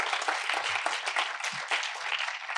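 Audience applause at an awards conference honouring top advertisers, a steady wash of many hands clapping at moderate loudness, continuous and unbroken for the whole stretch with no talk over it.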